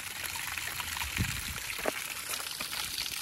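Water trickles softly through a homemade backyard waterfall of Quikrete and rock, fed by a Harbor Freight pump and garden hose, with a faint continuous splashing and a few small drips.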